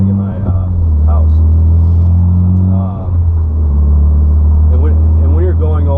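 A 2013 Mitsubishi Evo X with no turbo idles and rumbles in a deep, steady drone. Its engine note shifts slightly partway through, and a voice talks over it.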